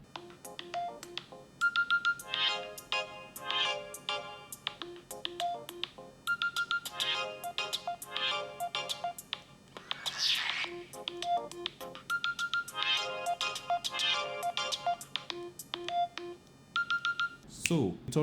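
A ringtone on an Oppo A57 phone's loudspeaker plays a bright, busy melody of quick repeated notes, moderately loud with a few brief pauses, heard for about eighteen seconds with no talking.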